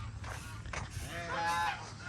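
A domestic goose on a small farm gives a few nasal honks in quick succession, moderately close, over a low rumbling background.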